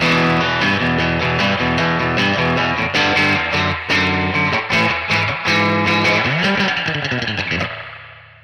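Electric guitar run through a TC Electronic Ampworx Combo Deluxe 65 preamp with heavy reverb, played as loud sustained chords and riffs with distortion that ring out and trail off into a reverb tail at the end.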